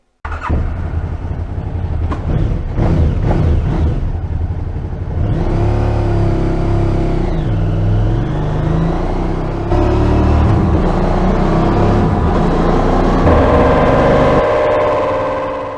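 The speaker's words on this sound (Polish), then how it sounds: "zrobimy jeszcze jedną próbę, jeszcze jedno hamowanie na dużo bardziej rozgrzanym silniku" A KTM 990 LC8 motorcycle engine with about 200,000 km revs hard on a dyno and holds high, loud and close, with rising and falling pitch as it winds up and pulls through the gears.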